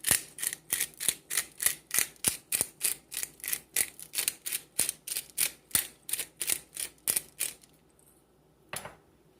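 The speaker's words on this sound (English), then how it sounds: "So let's grind some Italian herb spices into it." A hand spice grinder cranking Italian herb spices over food being grilled in a minivan camper, about two dozen quick crisp clicks in a steady rhythm, close and clear, then a brief pause and one last click.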